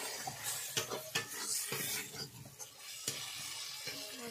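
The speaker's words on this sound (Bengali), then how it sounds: "মশলা কিছুক্ষণ কষিয়ে নিচ্ছি, ওর মধ্যে অল্প করে জল দিয়ে দেবো।" Spice masala for a ghugni made with fresh green peas frying in a pan, with soft sizzling and irregular scraping and clinking stir strokes, fairly quiet and close, no voices.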